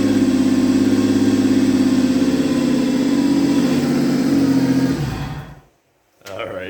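A Ford Escape with a damaged exhaust Y-pipe runs loud and rough, a steady low droning engine roar close by for about five seconds before cutting off to silence, then a brief restart of noise.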